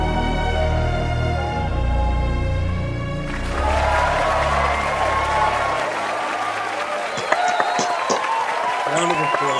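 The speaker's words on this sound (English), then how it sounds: "Round of applause." An audience at a drone society live stream claps in a round of applause. The clapping is steady and moderately loud, with voices and talk mixed in.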